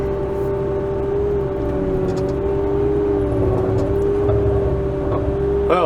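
A Bobcat T86 skid steer loader drives with a steady, loud engine drone and a constant tonal whine, continuous and close throughout with no talk.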